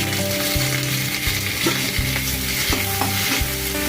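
Curry leaves and asafoetida fry in a little coconut oil, a dense close crackling sizzle with stirring, over a low steady tonal background like music.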